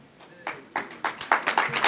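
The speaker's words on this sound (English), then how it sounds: "Round of applause" Audience clapping at the 7th National ICT Summit 2020, a scattered round of applause that starts faintly and builds into steady, moderately close hand claps over a couple of seconds.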